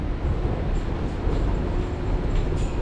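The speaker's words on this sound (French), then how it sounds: "Donc là je rentre au métro McGill" A metro train at McGill station in Montreal produces a loud, continuous low rumble and roar, steady throughout, with faint higher squeals riding on top and no speech.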